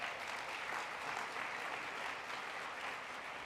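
Steady audience applause at an event on scaling food waste solutions, dense and even throughout with no voices standing out, held at moderate level from start to finish.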